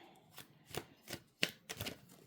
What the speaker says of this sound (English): Okay, so I'm shuffling these cards,